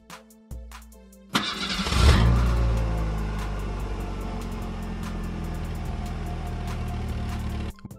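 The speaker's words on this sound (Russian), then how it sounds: "Перед вторым нажатием нужно нажать на педаль тормоза, а потом уже нажать на кнопку, и двигатель заведется." A car engine starts with a push-button ignition after the brake pedal is pressed: a brief click, then the crank catches and the engine settles into a steady, close idle hum that holds until an abrupt cutoff near the end.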